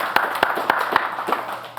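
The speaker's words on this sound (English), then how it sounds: "Let's give him a round of applause" Applause from an audience at an LGBTQ founders and funders meetup, with a handful of sharp separate claps standing out over a steady wash of clapping from the crowd.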